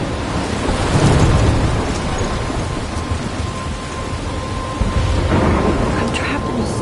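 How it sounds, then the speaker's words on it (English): A thunderstorm in the game Life is Strange: heavy rain pours steadily while deep thunder rumbles roll through, loud and close, with no voices. "I'm trapped in a storm?"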